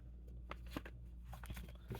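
A deck of cards being shuffled makes quiet, quick riffling and flicking bursts, close and soft, over a low background hum.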